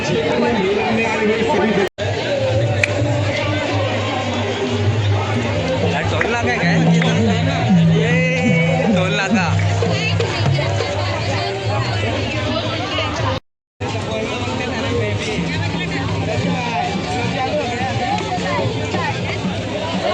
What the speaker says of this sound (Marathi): इथं रास गर्दी आहे